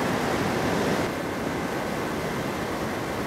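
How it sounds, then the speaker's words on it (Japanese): Tidal bore waves surging up the Kampar River in Sumatra's jungle make a loud, continuous rushing roar of churning water mixed with wind noise, with no voices. "突如列をなしていた波が乱れ姿を変え始めました。"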